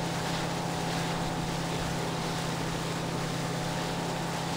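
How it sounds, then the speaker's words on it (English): A motorboat in Far Cry 3 drones along steadily with a loud, constant engine hum and rushing water and wind noise throughout, no pauses. "boat's definitely the best way to travel in this situation"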